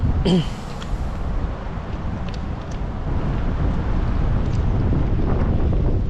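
Steady, blustery wind buffets the microphone throughout, a low roaring rumble with a brief voice near the start.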